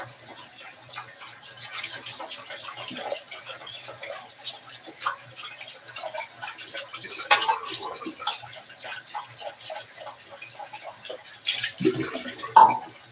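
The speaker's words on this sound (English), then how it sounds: "This is a dense knot, so as usual, you want to make sure to give it a good rinse" Water runs steadily from a tap while a dense-knot shaving brush is rinsed under it, a soft continuous splashing with occasional louder gurgles and spatters near the end.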